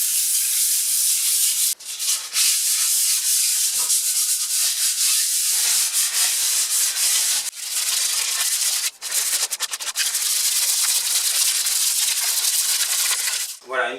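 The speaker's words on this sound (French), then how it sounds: "un bout de papier à poncer version 220 ou même encore plus fin" Hand sanding of waxed concrete in a kitchen with fine 220-grit sandpaper, a steady close scraping rub that runs almost without pause, broken by a few brief gaps and light knocks.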